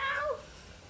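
A single short cat meow, close and fairly clear, sliding downward in pitch before fading into quiet room tone.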